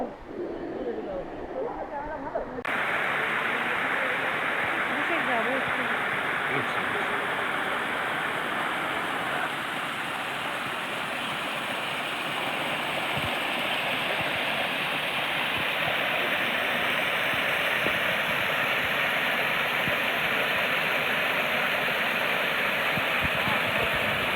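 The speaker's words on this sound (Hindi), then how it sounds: "तो ये एक छोटा सा वाटरफॉल है यहाँ पे।" A small forest waterfall in Kuldiha Wildlife Sanctuary, Odisha, pours as a steady, loud broadband rush that fills the whole stretch after a brief quieter start.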